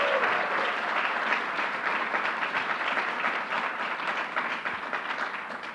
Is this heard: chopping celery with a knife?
no